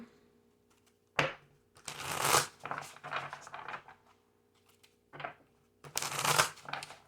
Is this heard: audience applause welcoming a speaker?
no